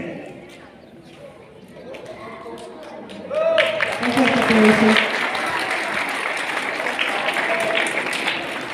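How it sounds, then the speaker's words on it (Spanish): An audience bursts into loud applause after a quieter stretch, the dense clapping swelling and holding steady with voices and cheers mixed in. "Un fuerte aplauso a esta revelación de la plana"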